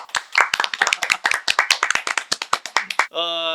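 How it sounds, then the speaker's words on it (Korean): A studio group claps together in a quick burst of applause, fairly close and loud, with dense overlapping hand claps for about three seconds before a short tonal jingle takes over. "박수!"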